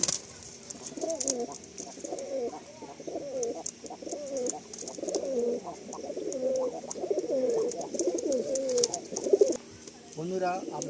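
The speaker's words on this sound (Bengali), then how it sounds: "আসুন আমরা এরপরে কিছু গিরিবাজ পায়রা ভাইয়ের হাত ধরে শখ করি" Giribaz pigeons in a loft give a steady run of soft, repeated coos close by, rising and falling over about eleven seconds with a brief flutter near the end.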